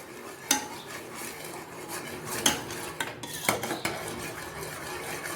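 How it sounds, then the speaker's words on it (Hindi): A spoon stirs milk in a pan over low heat for khoya, making soft repeated scraping and clinks of metal on the pan with a faint bubbling underneath, fairly quiet and close. "ये मुसलसल आपने इसको चमचा हिलाते रहना है"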